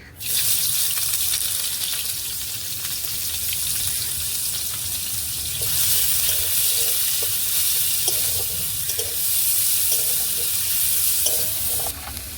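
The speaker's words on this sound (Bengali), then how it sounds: "তেলটা গরম হয়ে গেছে, দিয়ে দেবো পেঁয়াজ কুচি।" Chopped onions sizzle in hot oil in a pan for a pointed gourd and prawn dish, a steady loud hiss lasting throughout with faint clinks near the end.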